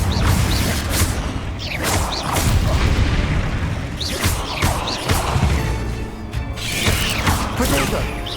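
Confringo fire spells in Hogwarts Legacy crackling and bursting in repeated loud booms with mechanical clatter, mixed with other combat spell effects and shouted incantations.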